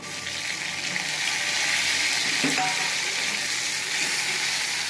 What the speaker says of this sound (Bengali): এটা একটু হালকা ভাজা ভাজা করে নেবো